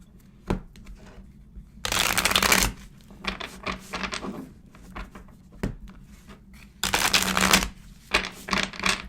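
Cosmic Tarot cards are shuffled in bursts of close, crisp riffling and flicking, broken up by soft taps and pauses, with no talking.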